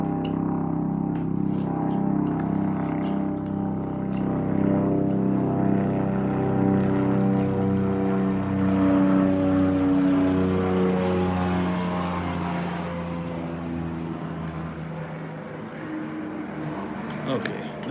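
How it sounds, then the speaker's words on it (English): A helicopter passing overhead outdoors, a steady loud droning rotor and engine roar that holds strong and then slowly fades as it moves away. "here comes the helicopter."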